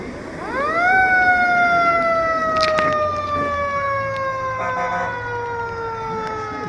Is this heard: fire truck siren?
yes